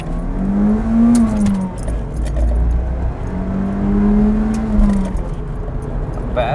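Inside a turbocharged, all-wheel-drive Toyota Celica GT-Four ST205, a low, steady engine drone and road hum run continuously under someone talking.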